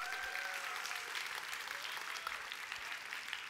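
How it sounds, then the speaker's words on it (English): A concert audience applauds the performers on stage, a steady wash of clapping at moderate distance with a faint tone briefly audible early on. "Please give them a round of applause."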